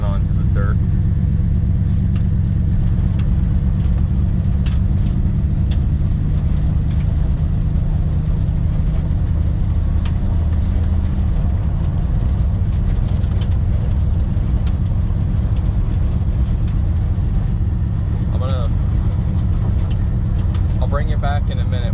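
A 1956 Dodge Regent drives down a dirt road with a steady, close engine drone and a constant road rumble for the whole stretch, and a voice speaks now and then over it.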